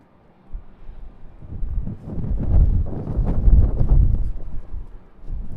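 Gusty wind buffets the microphone outdoors at an airport during plane spotting, a low rumbling roar that swells and fades in irregular surges for several seconds, loud and close with no talk.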